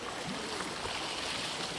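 Sea waves surge and wash along a rocky coast during a coastal and stream trek, a steady broadband rush of water at moderate level throughout with no talk.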